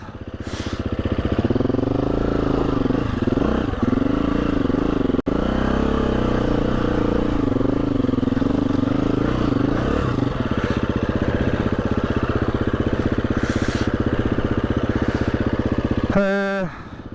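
A Husqvarna 350 motorcycle riding along a road in the Yorkshire Dales, its engine droning loud and steady throughout, with gear changes and a rising rev burst near the end.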